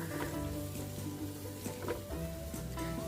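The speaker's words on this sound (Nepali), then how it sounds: "बेसन राखिसकेपछि कम्प्लिटली 1 मिनट चाहिँ मजाले भुट्नुपर्छ" Gram flour roasts in a pan for brinjal pickle, a soft continuous sizzle running low beneath a sustained humming tonal background.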